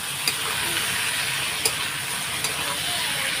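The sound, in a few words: stirring frying potatoes with salt and turmeric in pan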